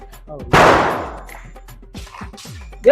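A single loud Diwali firecracker bursts with a sharp bang and a ringing, fading tail, while people nearby talk before and after it.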